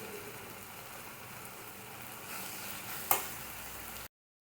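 Spiny gourd pieces frying in oil with salt added: a steady, soft crackling sizzle like light rain, with one sharp clack near the end before it cuts to silence.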